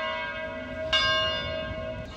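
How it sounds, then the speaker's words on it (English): Church bells ring out in Albufeira, Portugal, a sustained resonant tone struck again midway with a bright fresh clang, heard from a moderate distance with no talk. "And the bells are from the other church there."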